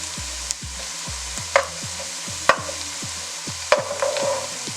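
Spinach, onion and garlic fry in a pan as a spoon stirs, giving sharp scrapes and clinks roughly every second over a soft steady sizzle.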